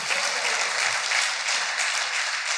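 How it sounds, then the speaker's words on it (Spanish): A congregation at a church men's congress gives a steady, dense round of applause that holds at an even level throughout, a full wash of clapping with no speech over it. "Dale un aplauso"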